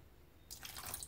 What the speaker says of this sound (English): that's a couple jiggers of vinegar. So, that's the next thing on our list. And we pour in,